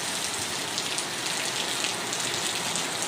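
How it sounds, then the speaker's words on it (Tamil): Heavy rain pours outside in a steady, dense hiss that holds at an even level throughout, close and enveloping, with no voices. "பார்க்கலாம் பாருங்களேன் எவ்வளோ அழகாக மழை பெய்யுதுன்னு"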